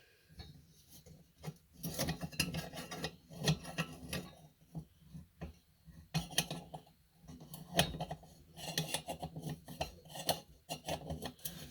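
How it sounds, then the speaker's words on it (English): Close, irregular metal-on-metal rasping and scraping as a small military wrench works on the burner frame and collar of a Coleman 220E lantern, coming in uneven bursts with short pauses between. "Now we'll take our military wrench here."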